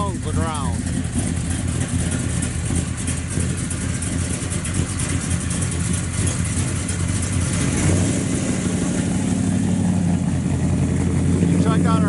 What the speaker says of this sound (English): Just things sound so good off the exhaust, just pounds the ground.